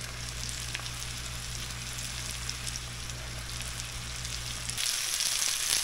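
Onions land in a crowded, sizzling pan of Filipino adobo, a steady broadband frying hiss with a low hum underneath that swells louder and brighter in the final second.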